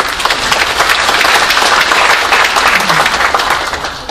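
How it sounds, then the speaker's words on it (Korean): Loud, sustained applause from a large audience, an even wash of clapping that holds steady and begins to fade at the end. "여러분 큰 박수로 환영해 주시죠."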